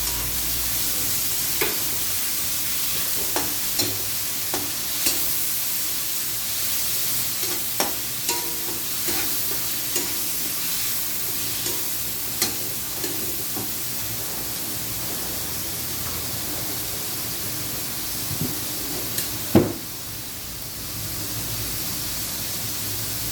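Pork frying with onion and tomatoes in a pan gives a steady loud sizzle, broken by scattered clicks and scrapes of stirring, with one sharper clack near the end and no talking.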